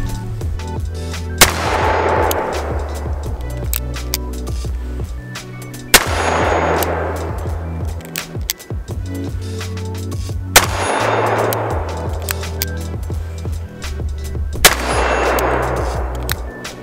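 Chiappa Rhino 60DS revolver fired single action at steel targets outdoors, four loud sharp reports spaced about four seconds apart, each with a ringing decay.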